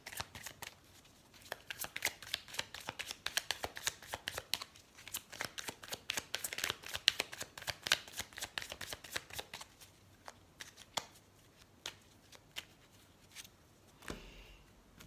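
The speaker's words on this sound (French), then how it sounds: "Allez, on va prendre quelques cartes de l'oracle Les rêves enchantés de Lenormand." Lenormand oracle cards being shuffled by hand, a close, quiet run of rapid papery flicks and riffles in irregular bursts lasting the whole stretch, with no talking.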